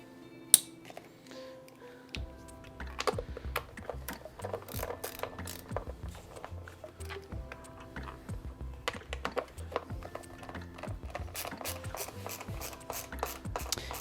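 Screws being tightened during assembly of a DIY VESC OneWheel, heard as close ratcheting clicks, creaks against plastic and rubbing in irregular bursts, with faint handling noise between them.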